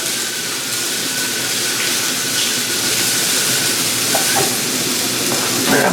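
Shrimp sizzle and fry steadily in bacon drippings in a pan, a continuous close crackling hiss with a few faint clinks near the end and no talking.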